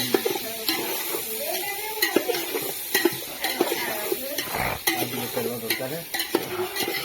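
Onions sizzle in hot oil in a pan in a rural village kitchen while being stirred, with steady crackling frying and repeated scraping clacks of the spoon against the pan.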